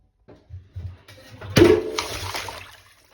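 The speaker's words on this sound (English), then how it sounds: "Now it's time to flood this custom built restaurant with this bucket of water." A bucket of water pours over a custom-built Lego restaurant, starting with a few faint taps and then a sudden loud splash that rushes and trickles away over the plastic bricks.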